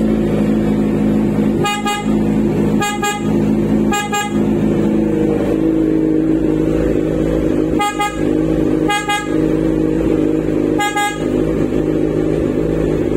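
A PIAA Super Bass horn fitted to a Kawasaki Z1000 motorcycle blares in six short, loud, close honks, spaced irregularly over a steady idling engine.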